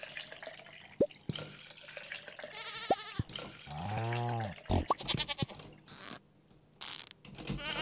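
Cartoonish goat bleats from Stardew Valley livestock being milked, several short wavering cries spaced across a few seconds, mixed with game drip and click effects and a longer sheep-like bleat in the middle, no talking.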